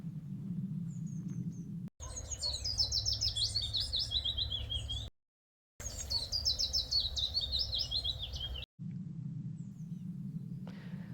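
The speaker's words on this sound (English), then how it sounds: "That's a willow warbler." A willow warbler sings at dawn on a UK smallholding, two clear descending trilled phrases, each a few seconds long, with a soft low hum in the gaps.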